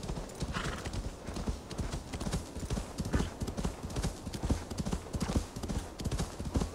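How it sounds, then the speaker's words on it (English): Horse hooves gallop in a fast, steady, continuous rhythm in Assassin's Creed Valhalla, close and fairly loud, with occasional faint whinnying and no talk over it. "Go, horsey, go."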